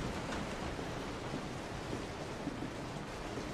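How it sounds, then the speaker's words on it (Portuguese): Steady rain in the survival horror game Resident Evil 7, a constant dense wash of falling water at moderate level with no breaks, heard alone without voices. "Olha a chuva que tá."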